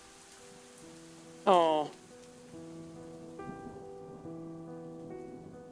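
Soft, steady rain falling on the ground in a video game, a faint hiss under gentle tonal game music, with a brief sliding chime and a short spoken exclamation.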